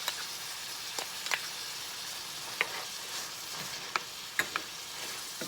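About a tablespoon of minced garlic sizzles in a pan on a stove at medium heat, a soft steady frying hiss broken by a few sharp pops and crackles, close up with no talking.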